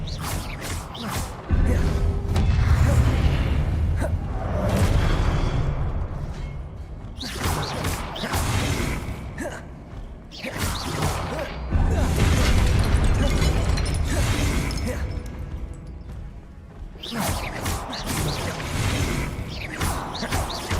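Spells such as Expelliarmus being cast in the video game Hogwarts Legacy: a run of loud, booming bursts and crackling blasts that come in repeated waves, with no talk.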